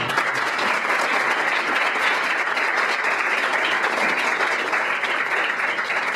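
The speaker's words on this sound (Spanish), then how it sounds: "yo voy a solicitar brindarles un aplauso en este momento" Steady, loud applause from an audience at a social reform panel session, many hands clapping continuously in a dense wash with a few cheers in the crowd, no break for the full length.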